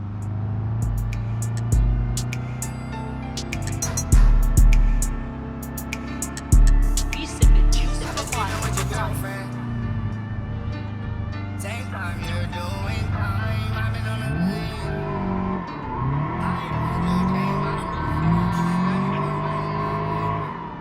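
A car drifting around a corner in the video game BeamNG.drive, engine droning and revving with several sharp tire squeals and bumps early on, then a rising, shifting engine whine later, steady and close throughout.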